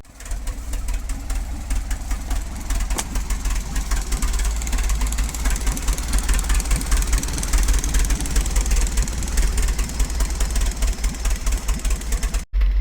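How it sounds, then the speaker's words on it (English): An old tractor engine idles steadily and loud for the whole stretch, a continuous low rumble with a rough, knocking texture and no talk over it. "That's a good old tractor."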